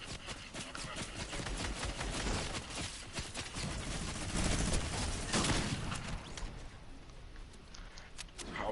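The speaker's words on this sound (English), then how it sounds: "What the heck is this dude shooting over there?" Distant gunfire crackling in the background as a rapid, steady stream of shots, faint and continuous with a few sharper cracks standing out.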